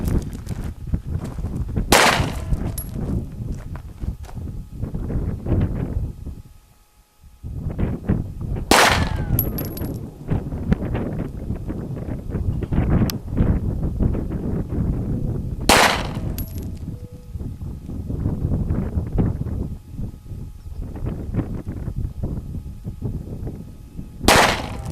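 Pistol gunshots at a shooting training range, four loud sharp reports spaced several seconds apart, with a continuous rumble and clatter in between.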